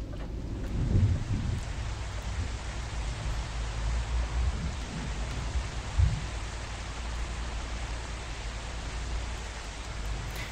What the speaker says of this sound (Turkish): Yine yağmur başladı.